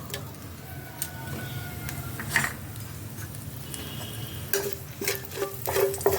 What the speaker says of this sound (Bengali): অল্প একটু দারচিনি আমি ফোড়নে দিলাম